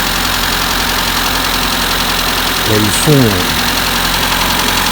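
A Citroen AX 1.1 litre PU1M single-point injection petrol engine idles steadily with a close, even drone, while someone talks briefly over it.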